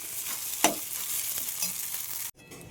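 Chow noodles are stirred in a pan with both hands, giving a continuous hissing sizzle. One sharp scrape stands out early, then the sound cuts off abruptly near the end.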